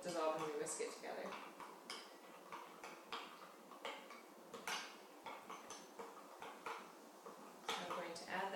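A spoon clinks and scrapes against a bowl while egg replacer is stirred and mixed until dissolved, a series of close, irregular metallic taps and scrapes with brief pauses between strokes.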